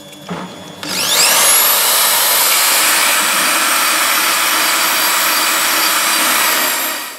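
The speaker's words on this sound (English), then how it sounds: "I quite like to use a wire brush, just to not sand away too much of the lettering" A wire brush scours an old axe head, a loud continuous whirring hiss that rises in pitch as it starts, then holds steady and close for several seconds before tailing off, with no voices.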